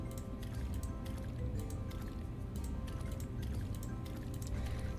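Crops are watered in a farming roguelike video game, with a soft, steady patter and squishing of water that runs throughout, fairly quiet and with no talk.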